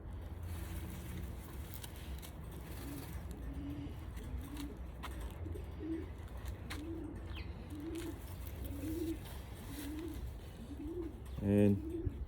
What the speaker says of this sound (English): This bird won a Young Bird Ace Award for George.